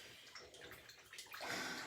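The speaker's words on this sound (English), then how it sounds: "shake my palette knife in my water and just clean that off right away" A palette knife is shaken in a pot of water to clean it off, giving a short burst of close splashing and sloshing that swells louder toward the end.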